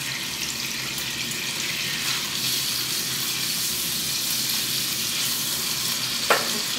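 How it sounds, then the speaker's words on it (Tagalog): Marinated chicken breast, seasoned with garlic, pepper, soy sauce and salt, pan-frying with a loud, continuous close-up sizzle and spatter that holds steady throughout, with a brief clink near the end. "So, papan-fry na natin."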